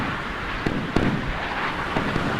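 Rapid, dense bursts of naval gunfire in a video game, shooting down incoming missiles, crackle continuously with a few sharper reports standing out, loud and close, with no voices.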